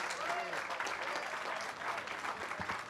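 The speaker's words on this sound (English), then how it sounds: "a round of applause." Audience applause at an apartment building ribbon cutting: steady, dense clapping from a crowd, fairly close and continuous for the whole stretch, with voices mixed faintly into it.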